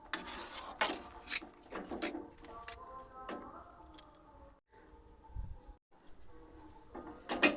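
Semolina dough for dudh puli pitha is stirred in a pan with a spatula, making intermittent scraping and rubbing strokes, irregular and close, with short gaps between them and no talk.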